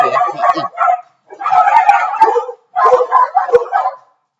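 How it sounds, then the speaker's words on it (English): Indoor dogs bark, yip and howl in three loud, close bursts with short silent gaps, vocal and excited in a home kitchen. "I do have dogs, okay, and I can't lock them up. I won't lock them up. So sometimes they may become very vocal."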